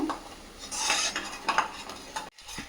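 A spoon clatters and scrapes against a pan while a paste of poppy seeds and melon seeds with a little added water is fried and stirred, in brief close metallic knocks.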